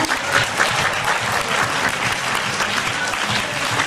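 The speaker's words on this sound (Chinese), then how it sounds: "give a round of applause" A seminar audience claps together in sustained, dense, even applause that stays loud and steady throughout without pause.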